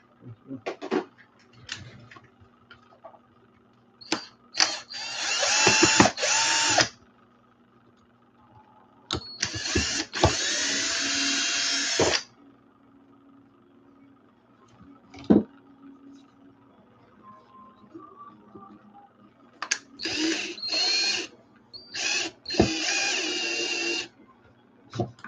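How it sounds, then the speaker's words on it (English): A power drill whirs in several bursts of a few seconds each while drilling a hole during RC car repair, separated by quiet handling clicks and taps, close by. "I had to drill a hole for a second when I was at that."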